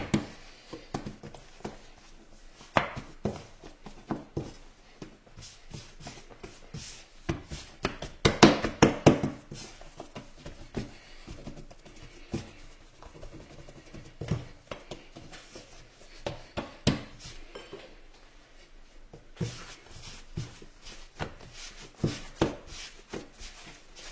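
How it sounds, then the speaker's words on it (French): Pita bread dough is divided into equal pieces on a worktop, with soft irregular taps, presses and hand rubbing, close and quiet, clustered in bursts with brief pauses between. "on va découper des petits pâtons en parts égales"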